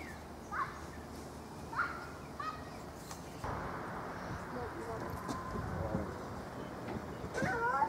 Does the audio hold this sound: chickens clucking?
yes